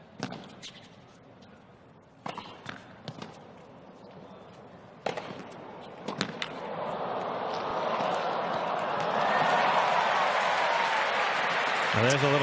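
Crowd applause at a Beijing tennis match between Caroline Wozniacki and Anastasija Sevastova, starting with scattered claps and swelling into steady, broad clapping across the stands, with a few faint voices underneath.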